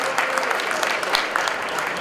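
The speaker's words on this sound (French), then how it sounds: "Applaudissements, merci beaucoup" An audience at an ideas festival claps steadily, a dense crackle of many hands sustained throughout at close range, with no voices on top.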